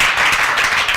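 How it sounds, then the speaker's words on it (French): Children applauding together at a foundation event, a steady, dense patter of clapping that fills the whole moment without pause. "Les enfants, on applaudit pour lui."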